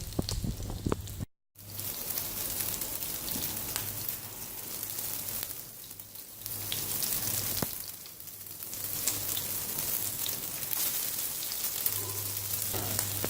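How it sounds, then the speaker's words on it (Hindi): Beef shami kebabs coated in egg frying in a pan, a steady, soft, continuous sizzle with crackling spatter throughout, briefly cut out once near the start. "अंडा लगाना है और इसको फ्राई करते जाएंगे।"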